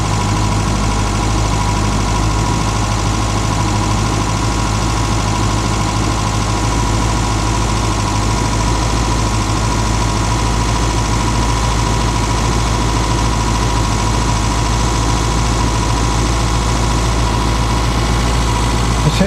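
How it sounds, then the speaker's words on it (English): A Reliant Robin engine idles close and loud with a strong low drone and an uneven, slightly lumpy pulse, misfiring because of an alternator fault. It runs without a break and no one speaks over it. "as you can hear, it's misfiring because it's not"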